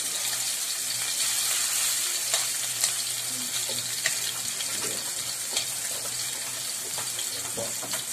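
Burger patty frying golden brown in a pan, a steady close sizzle and crackle with scattered sharper pops of spitting oil throughout.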